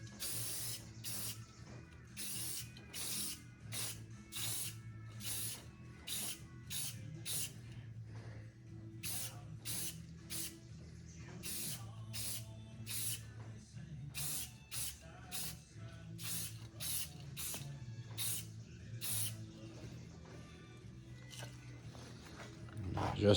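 Spray can applying paint to a shop build, with repeated short hissing bursts in an uneven rhythm over a quiet background hum.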